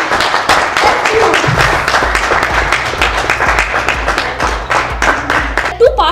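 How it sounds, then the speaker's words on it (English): Workshop audience at a leadership training session claps loudly and steadily, a dense round of many hands close by, with a low hum and a brief voice underneath near the end. "please put your hands a big round of applause to me"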